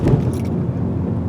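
Inside a 2020 Honda Civic Si with a 6-speed manual, the tires thump over a speed bump, giving a single firm thud followed by a short low road rumble.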